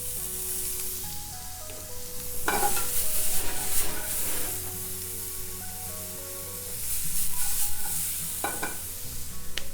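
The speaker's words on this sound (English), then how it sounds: "you can go ahead and make your pan sauce in the same pan. A little bit of red onion." Red onion sizzles steadily in a pan after fish was cooked in it, building a pan sauce for tuna piccata, with stirring scrapes and a couple of louder surges of frying; no one speaks.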